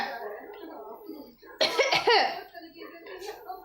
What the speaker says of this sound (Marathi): तुला येते खोकला